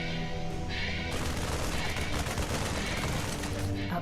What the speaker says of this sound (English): that's the sound of colonists being saved